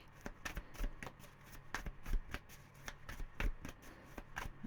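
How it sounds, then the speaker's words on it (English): Repeated crisp riffling and slapping of tarot cards being shuffled up close, in quick uneven bursts with no talking. "Okay, one more shuffle."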